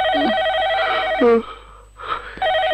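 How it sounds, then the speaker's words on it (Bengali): An old-style telephone bell rings late at night indoors, loud and close, in two long bursts separated by a short pause, with a brief voice and breath sound in between. "এত রাতে আবার কি টেলিফোন করলো?"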